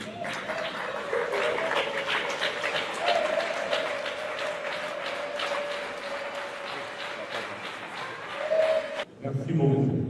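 Audience applause welcoming a customary chief at a formal gathering, a steady, full round of clapping with crowd noise that runs for about nine seconds, then cuts off abruptly into a brief low rumble.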